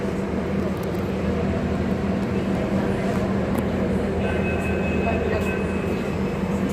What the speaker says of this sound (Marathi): आता मेट्रो निघाली आहे